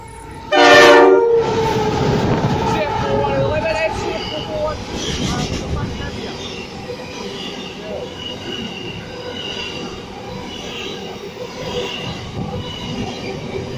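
A Sydney passenger train set running through a station toward Newcastle Interchange, loud and close, opening with a sharp horn-like squeal and then a steady rumble and wheel noise as the carriages pass.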